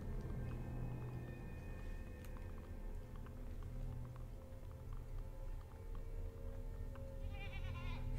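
A goat bleats in the video game Mundaun, short bleats over a busy low rumbling game backdrop with faint scattered clicks, no talk.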